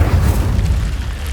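Incendio cast in Hogwarts Legacy bursts out as a loud, close, booming rush of fire, a continuous heavy roar with a deep low end for just over a second.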